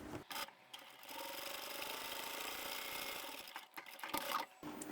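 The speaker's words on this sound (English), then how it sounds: "we are going to top stitch the other long edge" A sewing machine runs a long continuous top-stitching seam along the edge of a fabric bag, a steady close whirr after a couple of short starts, stopping briefly near the end before a last burst.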